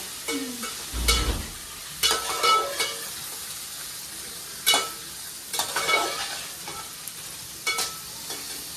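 Veg Manchurian gravy being stirred and fried in a pan at home: a soft sizzle beneath irregular spatula scrapes and clatters, with a few sharper knocks against the pan.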